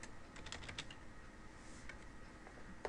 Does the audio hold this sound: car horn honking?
no